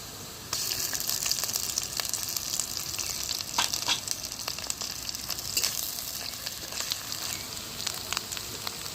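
Ginger paste with a little chili powder frying steadily in a pan, a continuous bright sizzle with scattered crackles and pops, close and alone without talk.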